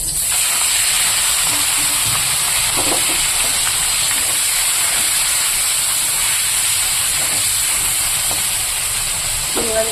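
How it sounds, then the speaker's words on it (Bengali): Prawns fry in hot oil with a loud, continuous hiss close by, and a few faint knocks sound beneath it. "তেল গরম হয়ে গেছে এবার আমি চিংড়ি মাছগুলোকে দিয়ে দেবো"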